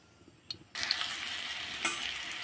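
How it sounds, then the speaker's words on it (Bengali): Cauliflower and potatoes drop into hot oil, bursting into a loud sudden sizzle after a quiet start, then a steady close frying hiss with a brief stir-like flare. "দিয়ে আমি এবার ফুলকপি আলুটা ভেজে নেব"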